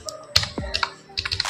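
Keys on a computer keyboard clatter in a short, quick burst of separate taps while someone types "hello world" into web code in an editor, close and clear with no speech.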